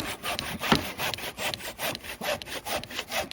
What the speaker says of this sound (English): These are a little bit more for cutting fairly direct straight lines.